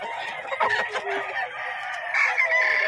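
Boston Roundhead roosters crowing and clucking in a short run of calls, at moderate distance over faint background noise.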